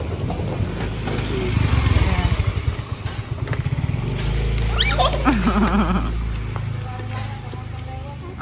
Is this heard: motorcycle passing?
yes